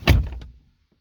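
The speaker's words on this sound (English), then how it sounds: "Close the door." A pickup truck door fitted with aftermarket air ride seats slams shut once, a close, heavy thunk that rings briefly and fades within half a second.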